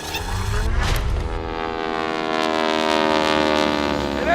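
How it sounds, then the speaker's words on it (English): Loud aircraft roar of planes taking off at Van Nuys Airport during a celebration, a sustained droning rumble with a shifting whine that builds and holds steady throughout, with no talking. "the planes are taking off for the U.S. Airport celebration at the Van Nuys Airport"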